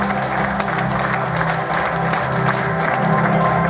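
Sustained applause from an audience at a film awards ceremony after a second-place winner is announced, steady and dense clapping throughout with faint crowd murmur beneath.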